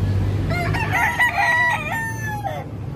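Young gamecock broodstag crowing once, a close, loud cock-a-doodle-doo lasting about two seconds over faint background hum, with no voices.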